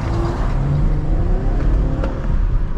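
A fifth-generation Chevrolet Camaro turns sharply, its engine revving hard in a loud, continuous roar up close, with a rough, noisy edge that may come from the tires skidding.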